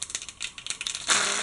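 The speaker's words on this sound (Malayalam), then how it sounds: "കടുക് പൊട്ടി വന്നിട്ടുണ്ട്." Mustard seeds popping and spluttering in hot oil for a Kerala-style pepper chicken roast, a rapid crackle of small bursts that swells into a dense, continuous sizzle near the end.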